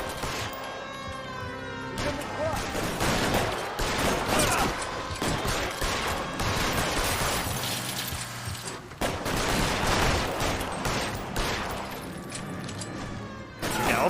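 Gunfire in the crime video game L.A. Noire crackles in dense, rapid volleys with crashes and impacts, loud and continuous for the whole stretch.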